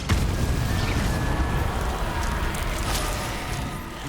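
A Confringo blasting spell explodes in Hogwarts Legacy, giving a broad rumbling boom that rolls on steadily for several seconds at moderate loudness.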